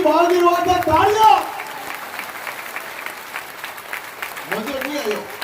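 Audience applause at a Rajasthani comedy stage show, a sustained moderate patter of clapping that rises after a man's loud speech and continues as another voice begins talking over it.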